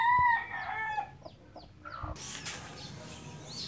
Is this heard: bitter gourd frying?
no